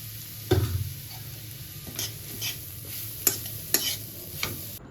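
Grated carrot frying in hot ghee for carrot halwa, a soft steady sizzle broken by occasional scrapes and clinks of a spoon stirring against the pan, close and fairly quiet.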